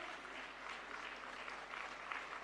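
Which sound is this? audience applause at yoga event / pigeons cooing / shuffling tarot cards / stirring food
audience applause at yoga event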